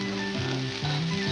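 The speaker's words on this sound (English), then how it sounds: "stir frying requires a very hot pan and very hot oil like this." Vegetables stir frying in a very hot, smoking pan of oil, a steady loud sizzle with a sharper burst of crackle as the food hits and is tossed, close and continuous with no talk.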